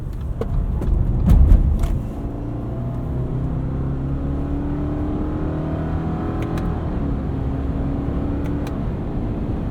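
Engine of a 2019 Subaru Forester Sport with a CVT, held in manual sport sharp mode, drones steadily with a rising hum after a brief louder burst near the start, heard from inside the cabin with no talk.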